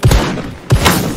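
Two loud revolver shots from the first-person shooter Krunker, about 0.7 s apart, each a sharp near boom with a short ringing tail, no voices.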